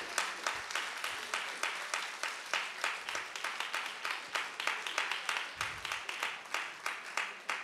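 A congregation at a church service claps in a rhythmic, evenly spaced beat, moderately loud and steady with faint voices underneath.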